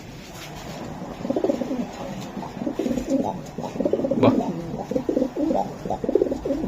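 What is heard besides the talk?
racer pigeons cooing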